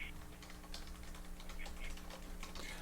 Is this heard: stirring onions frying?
no